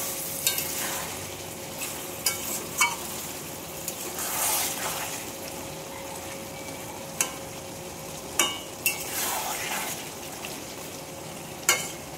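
Masala being stirred as it fries in oil in a pan, with a steady soft sizzle and intermittent scraping knocks of the spoon, continuous and close.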